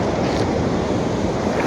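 Sea waves wash onto a clean, remote beach, making a loud, steady roar of surf mixed with wind buffeting close to the microphone.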